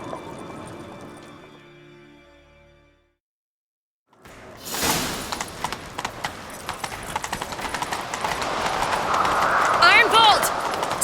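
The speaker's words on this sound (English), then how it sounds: "Grab a horse, we'll chase him down." Horse hooves galloping in The Witcher 3 video game: after a brief silence, a rapid, steady clatter of hoofbeats builds and continues close by, with rushing movement noise and a short voice partway through.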